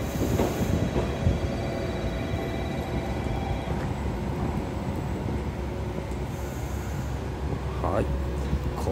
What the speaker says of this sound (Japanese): 仙台行きの普通列車の入線です